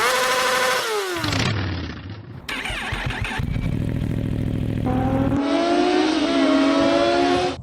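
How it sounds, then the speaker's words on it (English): A 2023 Kawasaki Ninja 650, mostly stock, ridden through a motogymkhana course, its engine revving up and down in quick, loud swells with abrupt shifts in pitch as it accelerates and brakes, close by with no talk. "My motorcycle of choice for this exercise is a 2023 Ninja 650."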